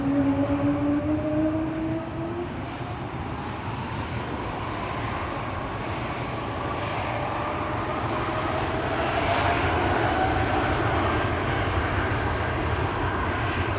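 A jet airliner on a flight to Shanghai approaches at an airport, its engine roar rising in pitch and swelling steadily louder over about fourteen seconds, heard from a distance with no one talking.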